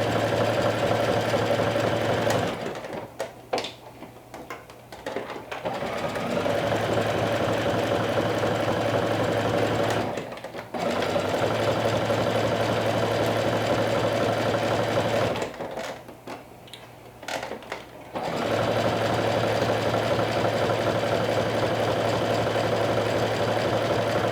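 A sewing machine hems the sleeve of a stretch dress, stitching steadily in four long runs with short pauses between them. It is close and fairly loud, with no talking.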